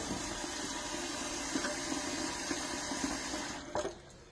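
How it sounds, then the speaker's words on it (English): Tap water runs steadily into a bowl, a continuous close splashing stream that cuts off near the end with a couple of clunks. "I'm going to fill up both of these bowls with water"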